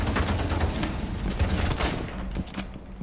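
Gunfire in Rainbow Six Siege crackles in rapid, dense bursts over a loud game soundscape, with a brief lull near the end.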